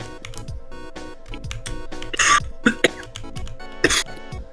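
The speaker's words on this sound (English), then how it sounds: "I don't know why I'm coughing so much." Several sharp coughs burst out over a background of music, a couple of them loud and close, with a throat-clearing sound among them.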